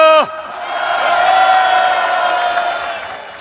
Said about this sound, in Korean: 후보님 모두에게 큰 박수 보내주시기 바랍니다